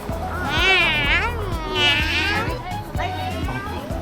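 A young child imitates a cat's meow with rising and falling voiced calls, two long ones close together and a shorter third, mixed with adult talk and background chatter during a downtown walk.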